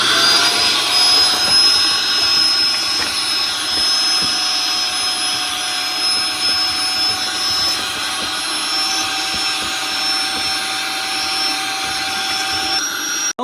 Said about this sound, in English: We're just going to go ahead and turn the vacuum on and clean it out.